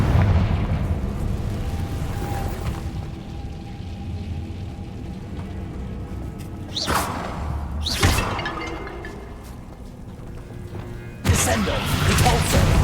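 Confringo blasting spell bursts in Hogwarts Legacy, heavy booms erupting over a dense rumbling battle bed, with sharp blasts near 7 and 8 seconds and another at 11 seconds, while a voice talks over the action.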